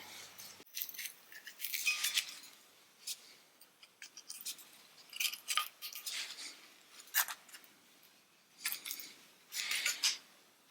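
Scissors cutting during restoration of a 1969 Triumph GT6 Mk2 driver's door, quiet close snips and crisp metallic clicks in irregular clusters with pauses between.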